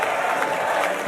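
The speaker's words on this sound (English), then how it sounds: "He gets a round of applause" Crowd applause at the 2019 WMF World Cup minifootball final in Australia, Mexico vs Brazil, as injured Mexico goalkeeper Valdovinos is carried off: steady, dense clapping from a large crowd, continuous and fairly loud throughout.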